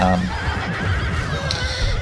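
A horse neighs loudly at the start amid a Medieval 2 Total War video game battle, followed by a continuous rumble of cavalry and battle noise with a faint hoof-like clatter.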